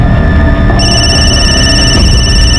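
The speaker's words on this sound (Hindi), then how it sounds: "ये किसका फोन आ रहा है बार बार?" A telephone rings loudly and insistently, its electronic ringtone tones sustained and repeating close by, with no talk over it, in a Crime Patrol crime drama scene.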